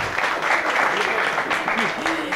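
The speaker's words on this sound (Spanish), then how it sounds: "Muy bien, un aplauso." A comedy-show audience applauds in a dense, steady wash of clapping that carries on for a couple of seconds, with faint cheers and voices mixed in.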